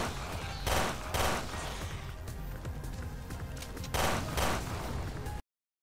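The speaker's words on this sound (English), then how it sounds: "This triple shot pistol is actually really good for a lot of different situations." Bursts of triple shot pistol fire in the video game Resident Evil Revelations 2 Raid Mode, two pairs of quick shots separated by a quieter stretch of game noise, fairly close.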